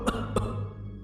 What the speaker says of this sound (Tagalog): ay maririnig ang sunod-sunod na pag-ubo